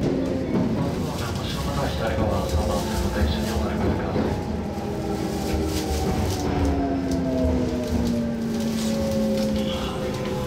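Kintetsu rapid express train pulling into Kobe-Sannomiya station, a steady rumble and rolling rail noise with a long falling whine as it slows, loud and continuous, with a voice heard over it.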